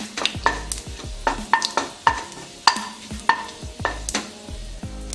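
Oil sizzles and pops as mustard seeds, black pepper and cumin fry, with repeated crackles and spatters close by, steady throughout with no talking.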